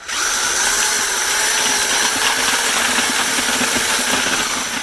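A corded drill shredding hazelnut husks runs continuously at high speed with a loud, steady whirring grind and a faint rattling texture throughout.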